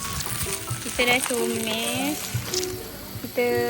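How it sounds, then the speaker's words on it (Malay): Sautéing in a pan with a little oil while preparing beef porridge, a steady sizzle and stirring running under a voice talking throughout. "Kita dah masukkan minyak sikit. Sekarang kita nak tumis."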